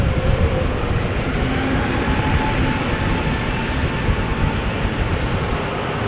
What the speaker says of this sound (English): The A320neo is going.